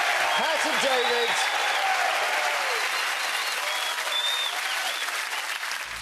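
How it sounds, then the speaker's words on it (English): Studio audience on a quiz show applauding, a loud, even roar of clapping that holds for several seconds while cheers and raised voices rise through it at the start. "Give them a round of applause"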